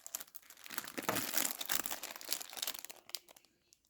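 Plastic parcel packaging for a watch repair tool kit handled and crinkled while being unpacked, a close, busy crackling that fades out toward the end.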